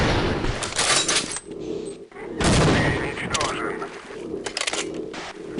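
Guns fire in a Half-Life mod, a run of loud close bursts and rapid shots that come in clusters over several seconds, with someone talking over the action.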